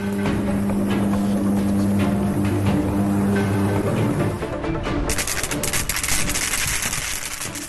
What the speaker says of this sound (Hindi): ये बिजली की आवाज है, सुनकर ही करंट दौड़ पड़ता है।